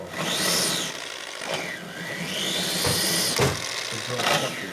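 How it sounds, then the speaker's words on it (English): A power drill whines and revs in uneven bursts during repair work on a 1972 Harley-Davidson XL Ironhead Sportster bobber's clutch and primary, with the motor pitch rising and falling over steady shop noise. "I'm using the drill."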